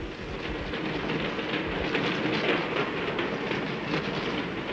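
A train climbs a steep mountain railway toward a foggy high plateau, its carriages rumbling and rattling steadily with rhythmic clacking wheels, moderately loud and continuous with no voices.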